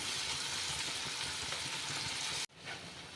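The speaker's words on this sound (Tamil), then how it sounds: "உப்பு ஆட் பண்ணி நீங்கள் ஃப்ரை பண்ணும்போது இந்த வெங்காயம் தக்காளி நல்லா மசிஞ்சு நமக்கு சீக்கிரம் வரும்" Onion and tomato fry with salt in a pan for dal tadka, giving a loud, even sizzle that stops abruptly partway through and returns as a quieter crackle.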